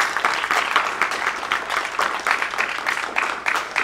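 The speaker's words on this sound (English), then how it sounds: "break out in applause" Crowd at a school spring band concert breaks into applause, producing even, sustained clapping at moderate volume with no voices over it.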